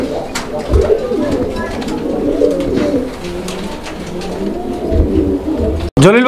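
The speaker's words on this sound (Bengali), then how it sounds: "জলিল ভাই এটা কি কবুতর?" Pigeons coo repeatedly at a pigeon market where the birds are sold in pairs, with a steady layer of bird calls and market voices talking throughout, ending in a brief dropout and a sharp rising sound.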